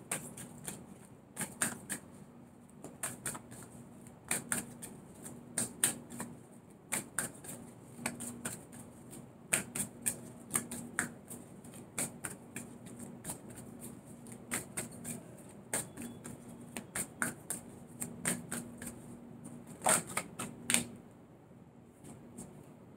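Tarot cards being shuffled and drawn, a quiet run of soft, quick card flicks and slaps in irregular clusters over a steady low hum, with no talking.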